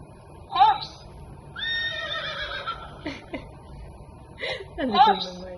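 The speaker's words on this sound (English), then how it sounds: "Horse" A toy animal sound book plays a recorded horse neigh and whinny, with two bright, shrill whinnies bracketing a short spoken bit, close and clear over light room noise.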